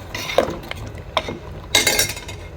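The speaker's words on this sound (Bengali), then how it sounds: "একটু নেড়ে দিচ্ছি।" A spoon scrapes and stirs condensed milk and semai (vermicelli) in a pot over low heat, with three separate clinking, scraping strokes at moderate loudness and no talking.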